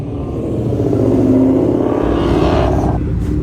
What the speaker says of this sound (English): the Mercedes did pull up